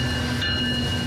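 Train rolling past on railroad tracks beside a store, a steady loud rumble with a continuous high metallic ring over it, unbroken throughout.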